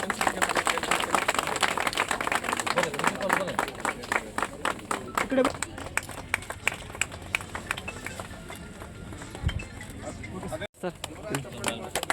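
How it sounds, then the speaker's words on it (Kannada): Crowd clapping at a public gathering in Hanagal taluk, Haveri district, with dense, loud applause for the first half before thinning into scattered claps under a busy murmur of voices. "ಹಾಗೆ ಜೋರಾದ ಚಪ್ಪಾಳೆ ಮೂಲಕ"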